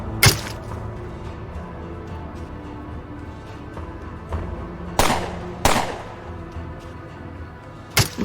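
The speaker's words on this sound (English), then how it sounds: "my launcher is just blasting the shit out of them" A launcher fired at groups of enemies in the game Underrail, heard as a few sharp, loud blasts spaced seconds apart, each with a short rumbling tail, over a steady low background hum and no speech.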